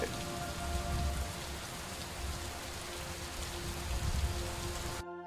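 Rain in the video game Superliminal, a steady dense patter of drops on a surface, close and continuous, with faint low rumbles underneath and no talking.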